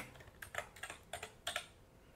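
Quiet, close taps on a computer keyboard come in short irregular clusters of keystrokes, soft clicks with brief gaps between them and no talking.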